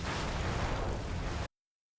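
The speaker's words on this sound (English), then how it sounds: "Giant boom explosions, sound effects on point, of course." A big, dense anime explosion effect roars loudly and evenly for about a second and a half, then cuts off abruptly into silence.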